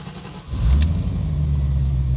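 A C4 Corvette engine cranks and fires up after a faint jangle of keys, catching at once and settling into a loud, steady idle rumble.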